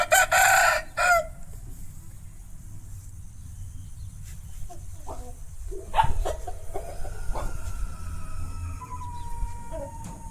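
A rooster on a farm selling fighting cocks gives a loud, close crow at the start, then softer clucks and more distant crows follow over a quiet outdoor background.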